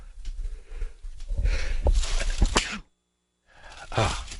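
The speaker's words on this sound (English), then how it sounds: "Sorry, got to sneeze again." Sniffs and breathy gasps build up, followed by a forceful nearby sneeze, a brief silence, then another burst of noisy breathing.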